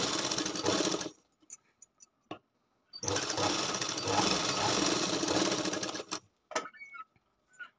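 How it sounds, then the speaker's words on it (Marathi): Two bursts of fast sewing machine stitching on a lined katori blouse, one short and one longer, separated by quiet pauses with small clicks and handling noises, close and fairly soft. "याच्यावर शिलाई फिरवायची"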